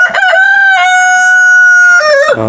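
A heavy Buff Orpington rooster of about six kilos crows once, close and loud, with a sustained clear cock-a-doodle-doo that rises, holds a long steady note and then drops away.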